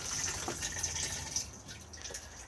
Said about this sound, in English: then push the flush on the blue button just here.